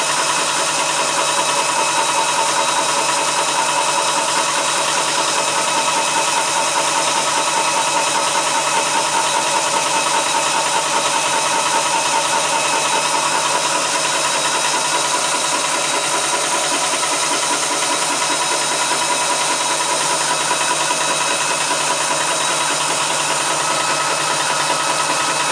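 A Vevor PCP 4500 PSI high-pressure air compressor runs continuously with a loud, steady mechanical drone and a rapid chugging pulse that never lets up, close to the microphone with no voices.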